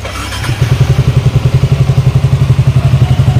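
Yamaha Sniper 155 motorcycle with an overheating problem, its engine idling close by to warm up after the cooling fan was removed, a steady loud thumping pulse with no talk.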